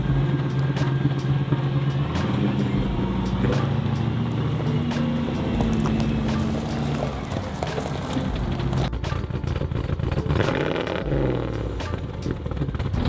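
Old Land Rover Series 2 fitted with a V8 engine, driving along with a steady, loud low engine rumble and road noise throughout, the tone shifting as it goes.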